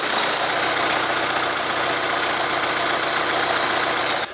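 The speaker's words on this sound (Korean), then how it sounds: "자 엔진 사운드 그냥 디젤의 소리만 내고 있었던 그런 차량입니다" A Hyundai Santa Fe DM diesel idles with its hood open, a steady, even clatter and drone heard close up that stays constant with no voices over it.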